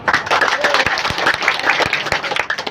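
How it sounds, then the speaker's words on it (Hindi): A crowd at an election rally claps loudly in a short burst, quick irregular hand claps close and strong, mixed with voices and crowd noise. "एक बार ताली और बजाओ जोरदार।"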